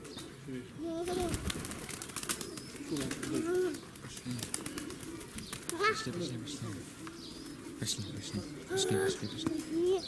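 A small pigeon coos repeatedly at a zoo, the soft low calls recurring through the clip amid chirps from other birds and nearby voices talking.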